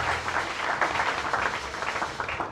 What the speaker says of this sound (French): Acclamez plus fort pour Jésus.